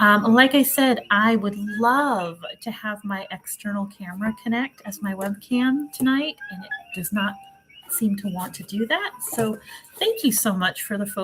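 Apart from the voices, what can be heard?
No distinct noise like a dog, phone or traffic.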